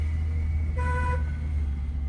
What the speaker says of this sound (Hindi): इतना लोग हॉर्न देने लगते हैं